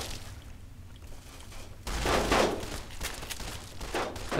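Pulse grenades exploding in Fallout New Vegas: after a quiet stretch, a sudden loud burst erupts, followed by a series of rapid crackling detonations and thumps.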